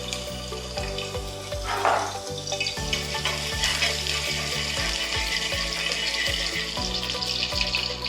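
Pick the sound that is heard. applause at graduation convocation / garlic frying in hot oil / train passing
garlic frying in hot oil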